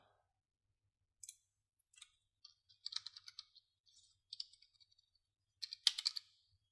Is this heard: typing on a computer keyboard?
yes